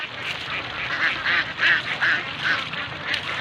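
Farm ducks quacking in a steady run of harsh, repeated calls close by, with a bright background chorus from the flock throughout.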